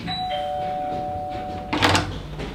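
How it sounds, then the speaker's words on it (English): A house doorbell rings with a sustained electronic chime tone, followed by a louder, brighter burst of clatter near the end, heard close and without voices. "We're going to ring the bell now."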